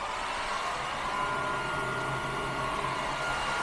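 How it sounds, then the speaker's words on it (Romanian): A hair dryer runs off a compact CARBEST LithPowerUnit 80 LiFePO4 power bank while the unit's cooling fans whir, together a steady loud broadband blowing hum with no talk. "În momentul în care pornesc uscătorul de păr, se și aud ventilatoarele."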